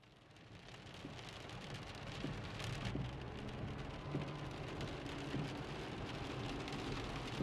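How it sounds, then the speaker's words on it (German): Steady rain falls on an autumn evening, a dense continuous patter on surfaces with a low rumble underneath, building slightly in the first seconds and then holding even, with no voices. "Und wird in der Nacht noch weiter regnen."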